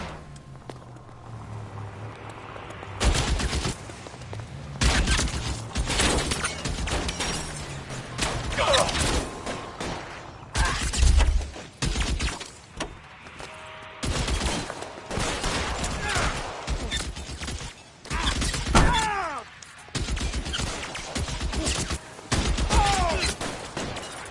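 Bursts of gunfire in a shootout in the video game L.A. Noire: repeated loud volleys and rapid shots, mostly near, with short pauses between them and brief shouted voices mixed in.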